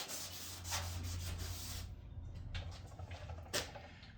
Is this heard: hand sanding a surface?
yes